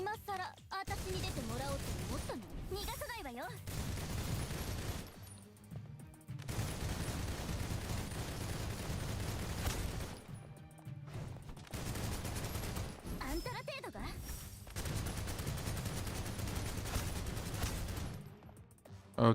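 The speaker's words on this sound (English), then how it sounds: "Defeat 3 enemies through shooting" Sustained automatic gunfire rattles through several long bursts while shooting enemies in Snowbreak: Containment Zone, broken by short pauses, with a voice talking over parts of the combat.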